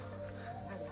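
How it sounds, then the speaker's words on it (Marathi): Continuous high-pitched chirring of crickets at night on Ratangad fort in the Sahyadri hills, steady and unbroken, with a faint low hum underneath. "एवढं रातकिडे जे रातचा आवाज करतायत"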